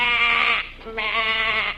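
A sheep bleats twice in quick succession, two wavering nasal calls close by, with a short pause between them.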